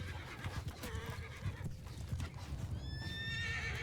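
A horse in Mount & Blade II: Bannerlord clip-clops steadily at close range, then gives a high whinny near the end, over a dense layer of game battle noise.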